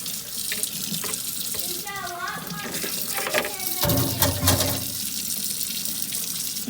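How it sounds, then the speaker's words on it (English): Tap water runs steadily into a sink while an incubator is being washed with soapy water, a continuous splashing stream with a louder gush partway through. "Wash it with a little bit of soapy water."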